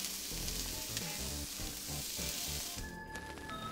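Onion, celery and mushrooms fry in olive oil in a skillet over medium-high heat, a steady close sizzle and crackle running throughout with faint stirring scrapes.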